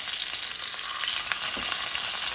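Fat on a thick-cut reverse-seared sirloin steak rendering in a hot pan, a steady close sizzle and crackle with a few sharper pops, continuous throughout and without speech.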